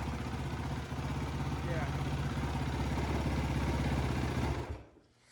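A Yamaha YFZ 450R SE ATV's 450 engine drones loudly and steadily at high revs for several seconds, then drops off abruptly near the end.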